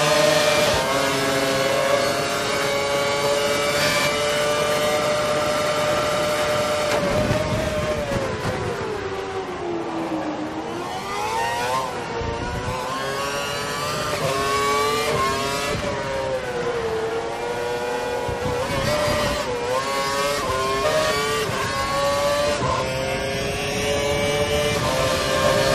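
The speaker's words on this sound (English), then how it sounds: "He's running full revs, maximum power." An F1 2012 race car engine in the video game, at the Valencia circuit, screams at high revs, loud and continuous, its whining pitch climbing and dipping through gear changes for the whole stretch, with no talk over it.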